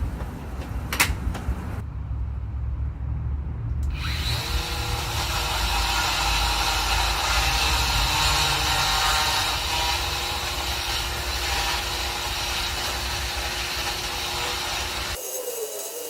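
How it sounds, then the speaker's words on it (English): An angle grinder with a mortar rake bit grinds loose mortar from the brick joints of an old porch, starting up after a few clicks and then running as a steady, loud, harsh whine for about eleven seconds before cutting off. "Now I'm going to take my angle grinder with a mortar rake bit and grind out all of the loose stuff that's remaining."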